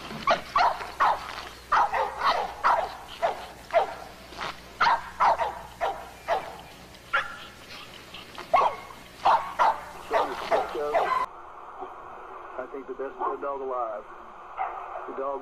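Bulldog barking in a series of sharp, fairly loud barks at an uneven rhythm, with someone talking over and between them and a brief muffled stretch near the end.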